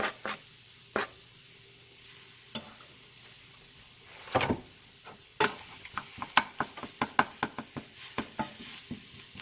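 Garlic goes into a hot pan for baked ziti, with soft sizzling under scattered scrapes and taps of stirring that grow busier and more frequent toward the end.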